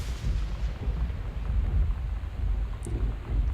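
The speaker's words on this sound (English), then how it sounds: "God, that thunder." Deep, continuous rumbling thunder from the video game Gone Home, a low rolling boom that fills the clip at steady loudness, with no talking over it.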